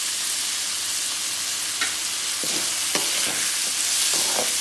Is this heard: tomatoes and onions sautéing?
yes